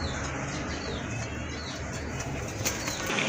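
A pair of pigeons flapping their wings in a pigeon loft, a steady soft rustle of fluttering with faint chirps, moderately close and continuing without pause, no talk over it.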